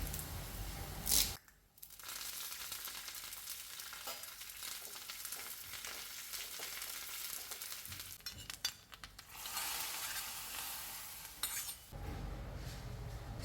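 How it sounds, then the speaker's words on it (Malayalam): Chopped onion and curry leaves sizzle loudly in hot oil for a prawn and papaya curry, a steady crackling fry with stirring and occasional utensil clinks, briefly interrupted near the start. "ഉള്ളി മൂപ്പായിട്ടുണ്ട് അതിൽ കുറച്ച് കറിവേപ്പില ഇടാം"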